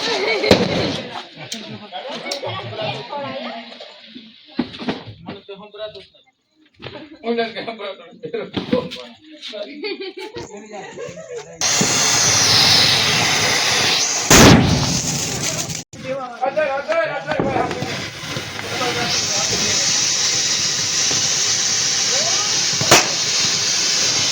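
Diwali firecrackers burst outdoors at a festival celebration, with sharp loud bangs and crackling sprinkled between people talking, then a sustained fizzing burn in the second half.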